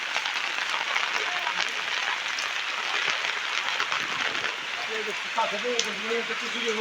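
Heavy rain falls steadily on a village street, a dense continuous hiss and patter at close range with no pauses, while faint voices come through underneath toward the end.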